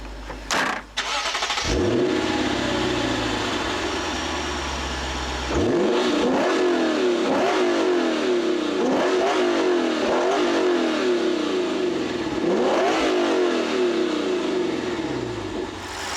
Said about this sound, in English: This is still the company's 5-liter high-performance 2UR GSE V8.